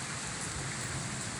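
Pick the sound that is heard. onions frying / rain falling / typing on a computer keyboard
rain falling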